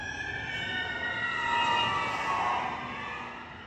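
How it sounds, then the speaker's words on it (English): A wailing siren passes at a distance, swelling louder around the middle and then fading away, with a low hum of traffic beneath. "As y'all can hear, it's a siren going by."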